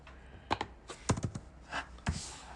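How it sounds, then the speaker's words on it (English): Typing on a computer keyboard, irregular clusters of key clicks in short bursts with pauses between, close and fairly quiet, no voices present. "go ahead and start typing out your name"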